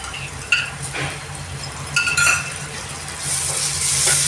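Ginger garlic paste sautéing in a pan with onions and spices: soft sizzle under occasional scraping and clinks of a spoon stirring, the frying hiss growing brighter toward the end, close by with no talk.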